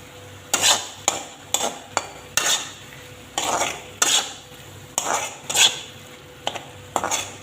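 Spices, including bay leaf and cinnamon, fry in oil in a pan over low heat, a faint sizzle under repeated scraping and clinking as a utensil stirs against the metal in uneven bursts.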